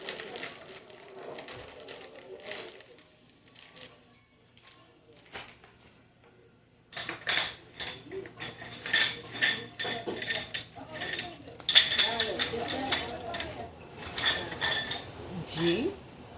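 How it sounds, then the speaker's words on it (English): Bolts, nuts and screws clink and rattle in a bag while being handled and sorted on a carpeted floor, a quiet stretch giving way to busy, close metallic jingling and clattering. "Bag of bolts and nuts and screws."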